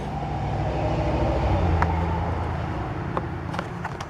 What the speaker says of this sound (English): On cue, we had a hot muscle car go by.